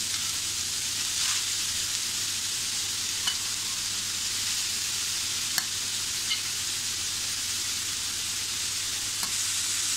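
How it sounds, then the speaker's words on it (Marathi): Grated carrots frying in ghee over medium heat, a continuous dense hiss of sizzling with faint occasional scrapes of stirring, close and steady throughout. "आणि आता आपल्याला या तुपामध्ये मध्यम आचेवर छान असा याला थोडा याचा रंग बदलेपर्यंत परतून घ्यायचं आहे."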